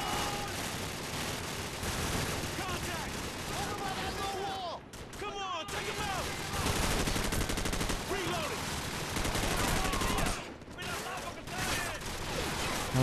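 Heavy gunfire in Call of Duty 4: Modern Warfare, rapid automatic bursts and rattling volleys with booming impacts, loud and nearly continuous with brief lulls, someone talking over the shooting.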